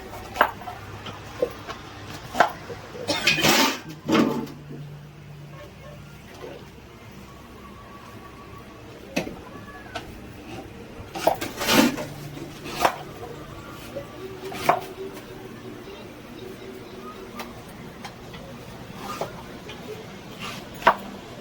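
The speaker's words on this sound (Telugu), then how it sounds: "ఇవన్నీ ముక్కలు ఇలా నరకాలన్నమాట." Raw mango pieces for Andhra mango pickle are chopped with heavy blows, irregular thuds and clunks spread across the stretch, some in quick bursts, with occasional clatter of pieces between strikes.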